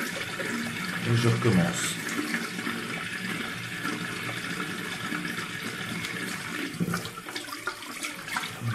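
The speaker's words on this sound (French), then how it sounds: "Je rince un petit peu. Je me refais le bol d'eau." Running tap water rinses a shaving brush and refills a shaving bowl at a bathroom sink, a steady close splashing stream with brief surges, under a man's speech.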